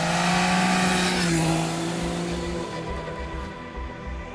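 Triumph Daytona 660 motorcycle engine in sport mode, a loud sustained engine drone with a rising then settling pitch, close and continuous with no talk over it.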